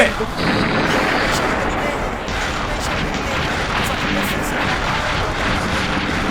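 Heavy gunfire in a Thai horror video game, a dense, loud and continuous barrage of shots and blasts filling the whole stretch.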